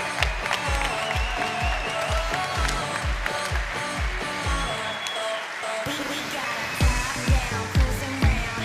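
Audience applause at a live hackathon awards show at a tech conference in Europe, steady clapping from a large crowd over a pounding musical beat, loud and continuous, with a brief drop near the middle.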